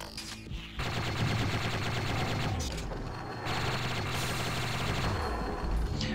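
Rapid gunfire in modded Doom: continuous, loud automatic shots in a dense rattling stream after a brief lead-in, with short pauses and gun sounds layered over game music.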